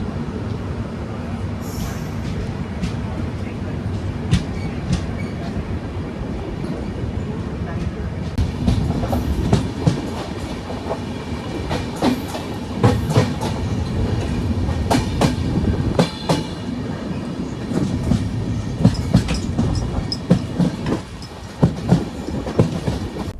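A Rajdhani Express train slowly gets moving, with a steady low rumble and rhythmic clickety-clack of wheels on rails beneath scattered clanks and bumps. The sound is heard from inside the coach.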